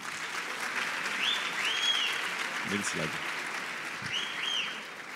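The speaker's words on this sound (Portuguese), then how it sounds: "Uma salva de palmas para o Denner." Audience applause at a university business event, continuous crowd clapping with scattered whistles that holds steady for several seconds.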